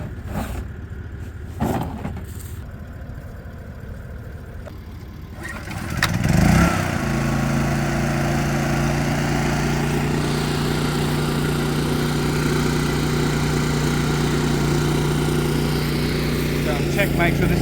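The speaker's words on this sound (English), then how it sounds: "probably notice a little red engine in the background. That's the engine we normally use. It's a diesel." A small red diesel engine running at a water bore in the outback, with a steady, loud droning hum that settles in after a few seconds of quieter outdoor sounds and light clatter.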